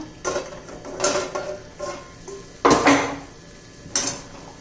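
Metal pot lid lifted off a pan of methi matar sabzi cooking on the stove, a few separate clanks and scrapes of metal, the sharpest near the middle, with quiet pauses between.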